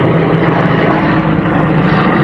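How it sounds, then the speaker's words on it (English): A helicopter flying over a cemetery in Ocala, Florida, a loud, steady rotor and engine roar filling the whole moment without a break, close overhead. "That's the helicopter."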